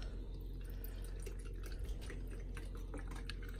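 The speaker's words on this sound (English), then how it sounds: "Daddy's going to pour us some vinegar in this little cup." Vinegar pours from a bottle into a small cup in a short, steady trickle of dripping liquid, close by and moderately loud.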